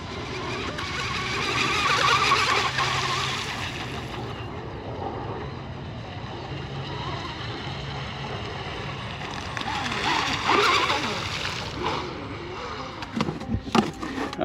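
A J&R Marine H17 RC hydroplane runs across the water, its high engine whine rising and fading as it passes, with splashing and some background chatter.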